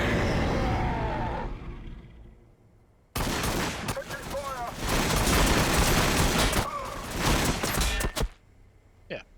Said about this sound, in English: Massed gunfire doing some damage